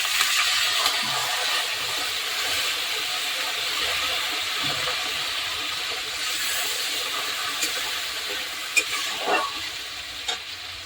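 Water splashes onto spices frying in a pan for a taro-leaf dish cooked with hilsa fish head, giving a steady, loud hissing sizzle with steam throughout and a few soft stirring knocks near the end; no one speaks.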